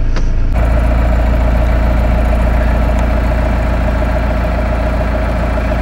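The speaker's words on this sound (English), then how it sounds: "watch it idle fine sitting here" A 4BT Cummins diesel engine in a Bronco, troubled by fuel system problems, idles loud and close with a steady low rumble and even chugging throughout, after a brief knock at the start.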